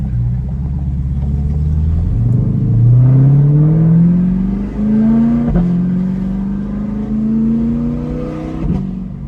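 A Chevrolet C8 Corvette with a Corsa track edition exhaust roars loudly up through the gears, the engine note climbing steadily with quick breaks at each upshift, heard close and alone.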